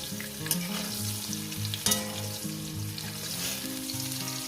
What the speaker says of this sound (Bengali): দেখেন আমি কিভাবে আলু পটলটাকে সুন্দর করে ভেজে নিচ্ছি কিন্তু পোড়াচ্ছি না